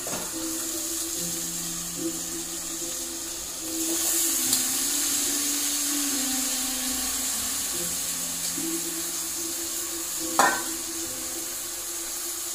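Chicken sizzling and being stirred in a pan for a simple home chicken curry, a steady close frying hiss with scraping stir sounds and one sharp clink, over a faint background hum.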